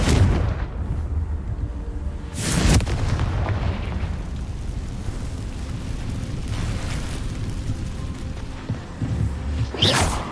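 A Confringo fire spell in Hogwarts Legacy goes off as a loud, close explosive burst, followed by a rumbling low tail and a second sharp blast near the end, over a steady game ambience.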